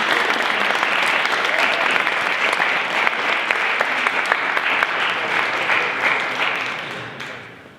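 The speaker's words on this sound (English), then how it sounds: "let's give all of our participants a huge round of applause for their hard work" At a Poetry Out Loud competition, an audience breaks into loud, sustained applause for the participants, a thick crowd of clapping hands that holds strong for several seconds before tapering off at the end.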